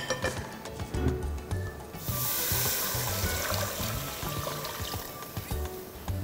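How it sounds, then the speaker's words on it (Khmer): Water pours steadily into a cooking pot for oxtail and pickled lime soup, a soft continuous splashing rush lasting several seconds after a few quieter kitchen clinks. "បន្ទាប់មកទៀតយើងចាក់ទឹក"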